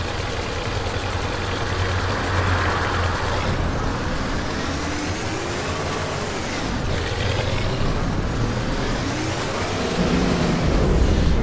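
A Kuban G1A1 bus engine drones steadily while driving in the bus simulator game Omsi 2, with a continuous close rumble that rises and falls slightly as the revs shift.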